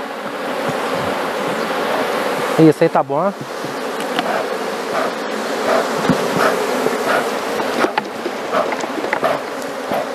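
Honeybees swarm in a loud, steady buzz while a beehive is split into two, with a few sharp knocks on the frames and brief speech over the drone.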